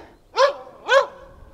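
Two short, sharp dog barks about half a second apart, close and clear, with quiet in between.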